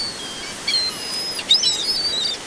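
Seagulls calling on Virginia Beach as they are fed, a few faint high cries and squeals spread over a soft wash of background noise.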